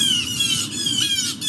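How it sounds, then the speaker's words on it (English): Blue jays squawking and mobbing in a tree, harsh overlapping calls repeating steadily over a noisy outdoor background, fairly near and loud throughout. "All those blue jays."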